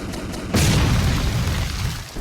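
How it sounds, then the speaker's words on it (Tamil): A video game explosion in Escaping Barry's Prison goes off as a sudden loud boom after a short quiet stretch, then rumbles and decays over the next second and a half. "வெடிச்சு செத்துட்டான்."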